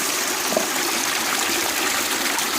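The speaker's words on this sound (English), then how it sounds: "now we're walking down a waterfall that is kind of slopey and big" Water streams steadily down a big, sloping waterfall edged with roots, a continuous close rushing and trickling wash with no voices.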